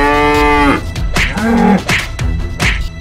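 A water buffalo lets out a long, loud moo, followed by two more drawn-out lowing calls, close by, with no talk.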